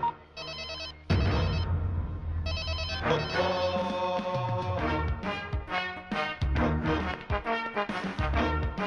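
A telephone rings over and over and goes unanswered, its bell tones repeating under a loud film music score and other effects.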